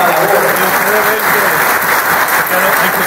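Dense, loud audience applause fills a short stretch at an anniversary ceremony for a commerce federation, close and continuous clapping from a large indoor crowd.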